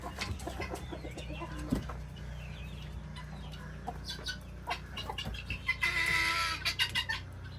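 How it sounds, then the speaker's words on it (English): Farmyard chickens cluck in short scattered bursts, some near and some farther off, building into a busier flurry of clucking toward the end over a low constant hum. "That's the cluck clucks."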